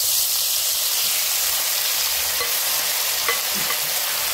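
Beef strips sear in a spoonful of oil in a wok over high heat, a loud, steady close-up sizzle with broad hiss running throughout and a few faint clinks of stirring.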